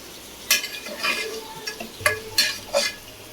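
Ground coconut and onion paste being stirred into frying country chicken in a pan: several bursts of utensil scraping and clinking over a light sizzle.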